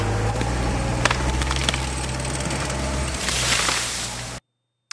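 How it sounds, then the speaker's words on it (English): A side-leaning mulberry tree's hinge fibers creak, crack and splinter as it falls, sharp woody snaps over a loud, steady rumble of running equipment, then an abrupt cut to silence. "those hinge fibers as they moan and start creaking and breaking and ripping"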